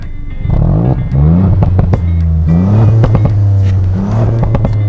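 A 2019 Ford Fiesta ST exhaust in sport mode revs up repeatedly, loud and close, with sharp crackling pops and bangs between the rising engine notes.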